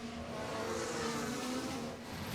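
An F1-style race car at the United States Grand Prix roars past with a loud, steady high-pitched engine whine and a slight pitch shift as it goes by.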